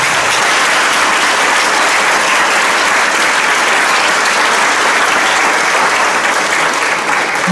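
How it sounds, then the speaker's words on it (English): A big, loud, dense round of applause from a high school jazz band concert audience, honouring the parents, a continuous wash of clapping holding steady throughout with no talk. "Let's give our parents a big round of applause."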